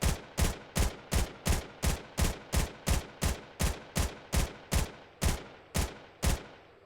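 A P90 fires single shots into a wood wall in Fortnite, about sixteen evenly spaced sharp cracks over roughly seven seconds, each with a short decaying tail. The pace slows slightly near the end and no voices are heard.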